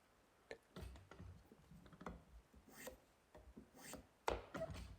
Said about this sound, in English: I've sawn them to size, so they've got slight saw marks, which I'm just planing off here